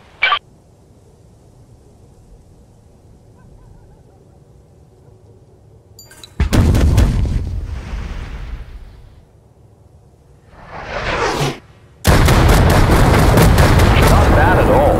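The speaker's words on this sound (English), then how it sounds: "When the enemy numbers become overwhelming, the artillery comes to the rescue." Artillery strikes in the Hired Ops video game arrive as heavy explosive booms after quiet stretches: a brief opening burst, then a loud blast with rumbling debris, a second rising rush of impacts, and a final sustained barrage.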